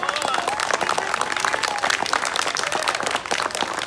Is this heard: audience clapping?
yes